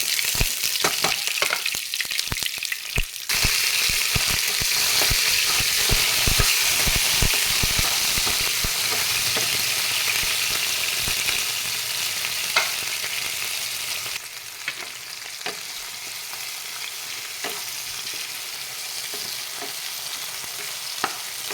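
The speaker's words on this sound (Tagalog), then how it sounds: "gigisa na po tayo ng bawang, sibuyas, kamatis" Garlic, onion and tomato sautéing in a hot pan for igado, a steady close sizzle and crackle with repeated stirring scrapes and clicks throughout, easing slightly quieter near the end.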